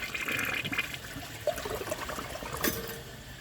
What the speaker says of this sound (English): I'm going to give it another flush